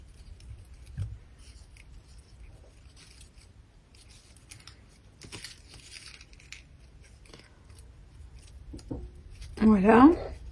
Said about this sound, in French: on coupe ce qui dépasse